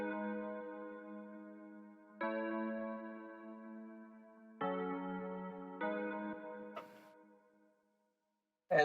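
Sustained guitar pad chords with EQ and an eighth-note stereo delay, slightly gain-boosted, change in several soft held blocks, each swelling in and fading out before a brief silence and a sharp final hit.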